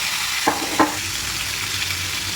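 Potatoes fry in oil left from frying fish, a continuous close sizzle with two brief clanks of utensils against the pan near the start.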